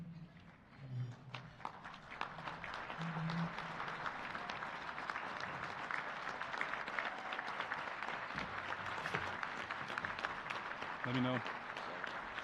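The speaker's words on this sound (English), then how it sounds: "Please everyone stand and clap for the introduction of the class of" Banquet guests at a sports hall of fame dinner rise and clap for an inducted class, a sustained, dense wash of applause from a large crowd, with a few voices speaking briefly near the start and end.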